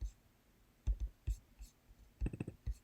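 Quiet computer mouse clicks in short scattered bursts while a file is opened on a computer, faint and close, with no talking.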